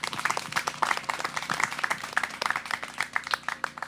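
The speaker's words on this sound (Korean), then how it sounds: "이 비극을 해소하기 위해서 그리고 넋을 기리기 위해서 증언해주신 이영희 선생님께 다시 한번 큰 박수 부탁드립니다." An audience at an outdoor peace declaration event applauds steadily, a dense patter of many hands clapping at moderate volume, continuous throughout with no speech over it.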